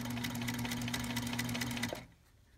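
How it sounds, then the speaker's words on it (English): An old sewing machine stitches a straight seam with a steady, even motorized whir for about two seconds before it stops abruptly, close by and with no voices. "It was my mother's sewing machine."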